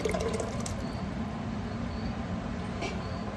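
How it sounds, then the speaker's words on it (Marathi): Alani soup pours into rice, a steady close rushing and splashing of liquid that runs unbroken throughout. "हे जे आपण अळणी सूप बनवलेलं आहे हे याच्यामध्ये टाकायचं"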